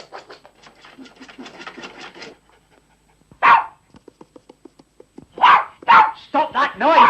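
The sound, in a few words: dog barking and panting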